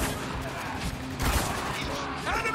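Rapid gunfire bursts crackle through a firefight in the video game Spec Ops: The Line, dense and continuous with voices mixed in underneath.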